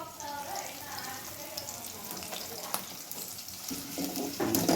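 Capsicum sautéing in a pan for cabbage manchurian hisses with a moderate frying sizzle, broken by a few stirring clacks and a louder burst near the end.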